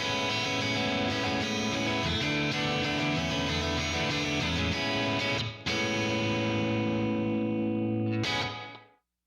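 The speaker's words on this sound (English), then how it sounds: "Let's see how the room reverb does with this" An electric guitar plays a math-rock style tone through a Flamma Corrector room reverb, sustained distorted chords ringing loud and dense, a brief break midway, then a final chord that decays into silence.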